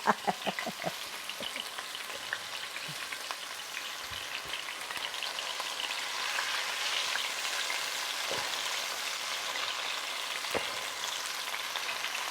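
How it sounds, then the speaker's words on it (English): Pork tenderloin fries in a hot pan with a constant dense crackling sizzle and scattered sharper splatters and pops, close and steady throughout, no talking. "You can see it sizzling and you can see it splattering."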